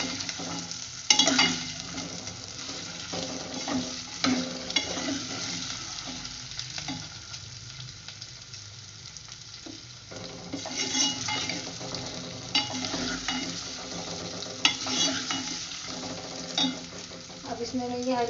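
Taro root (arvi) stirring and frying in a pan for a homemade sabzi, with steady close sizzling and repeated scraping and clinking of a utensil against the pan throughout.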